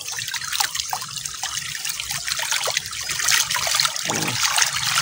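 Water flows strongly into a fish pond, a steady close trickling and splashing rush that continues without pause.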